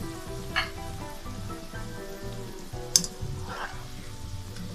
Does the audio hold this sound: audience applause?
no